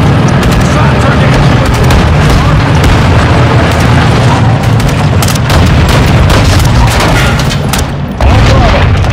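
Artillery explosions in Call of Duty: Modern Warfare 2 combat: heavy, continuous booming and rumbling blasts at loud, sustained volume, with crackling bursts layered over it and voices faintly mixed in.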